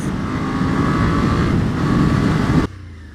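A Suzuki SV650 2016 V-twin motorcycle engine roars loud and close, accelerating with a steady, throaty drone, holding its pitch before cutting off abruptly near the end.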